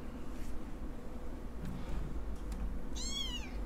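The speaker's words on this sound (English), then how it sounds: "The cat's super adorable." A cat gives a single clear meow near the end, close and fairly loud, after a few seconds of quiet room noise.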